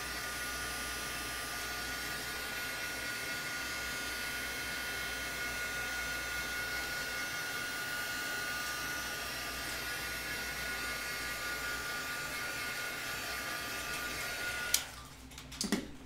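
A heat tool blows steadily while drying gesso on a mixed-media book page, producing a constant airy whir that holds near and even before cutting off with a few small knocks at the end.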